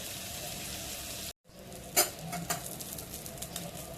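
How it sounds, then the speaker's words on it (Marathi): Kalet fish frying crisp in oil on a low flame, a steady soft sizzle that cuts out briefly, then returns with a few sharp crackles and pops. "मंद आचेवर मच्छी फ्राय केल्याने खूप क्रिस्पी होते"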